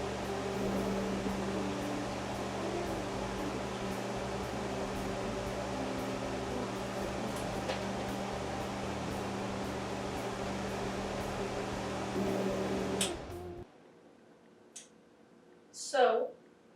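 A kitchen blender runs steadily and loudly for about thirteen seconds while blending tomato-based ferret food, giving off smoke, then cuts off abruptly, leaving a quiet room with a brief voice.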